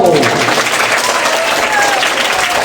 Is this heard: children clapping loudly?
yes